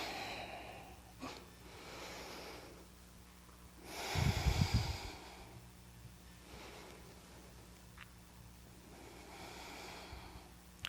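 A slow exhale during a yoga flow, a soft breathy rush of about a second, quiet and close, with faint rustling of movement before and after.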